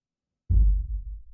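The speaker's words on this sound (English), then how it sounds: "that's just a thud. That's literally just a bass drum." A single deep thud made from a bass drum with reverb, a sudden low boom after a silent start that lingers and rumbles as it tails off.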